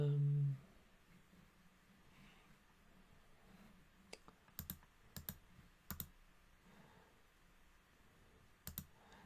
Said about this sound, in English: Let me just type here if I can